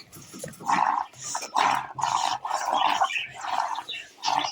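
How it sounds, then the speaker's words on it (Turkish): A dog growls close by in a series of rough, rhythmic bursts separated by short pauses, with no voices over it. "Köpek."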